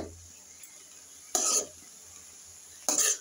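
Cabbage being stirred and fried with a spoon in a pan, two short scraping, sizzling strokes separated by quiet pauses.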